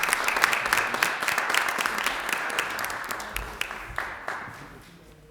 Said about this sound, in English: we'll give Kylie a round of applause